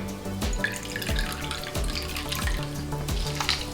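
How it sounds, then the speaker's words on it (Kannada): Water poured from a cup onto jaggery in a pan while making haalu holige, a steady splashing pour with a few heavier gushes, continuous and close, no talk. "ಸ್ವಲ್ಪ ಕರಗೋದಕ್ಕೆ 1 ಕಪ್ ನೀರು ಹಾಕ್ಕೊಂಡಿದ್ದೀನಿ."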